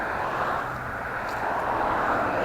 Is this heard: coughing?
no